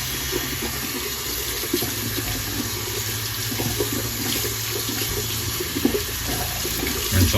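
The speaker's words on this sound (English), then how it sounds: "we'll rinse all the conditioner out of Spectra here." Running water pours steadily over a Monster High Spectra doll as conditioner is rinsed from her hair, a continuous close splashing wash like a sink tap, with no talking.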